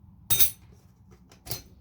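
A clutch plate is set into the clutch drum during a 1998–2002 Honda Accord BAXA transmission rebuild, making two brief, crisp metallic clinks about a second apart in an otherwise quiet setting.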